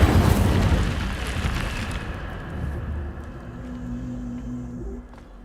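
An Incendio fire spell cast in Hogwarts Legacy, a loud whooshing burst of flame that starts strong and fades into a low rumbling roar over a few seconds.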